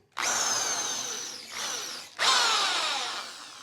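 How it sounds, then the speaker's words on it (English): An electric drill drilling out the middle of a golf wedge shaft whirs up close and loud, dips briefly, then cuts out and spins up again for a second steady run. "now we're going to take the drill"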